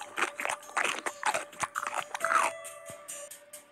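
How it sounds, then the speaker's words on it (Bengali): A creature crunching and chewing boiled eggs still in their shells, a close, loud run of rapid crisp bites and wet chewing over about two and a half seconds that then tails off into quieter munching. "তারপর 5-7টা সিদ্ধ ডিম খোলা শুদ্ধ চর মুড়িয়ে খেয়ে ফেললো।"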